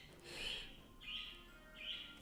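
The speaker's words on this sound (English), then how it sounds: "sorry if you can hear my birds yelling in the background" Three bright, high chirps from pet birds, evenly spaced about a second apart, fairly faint and heard alone without talk.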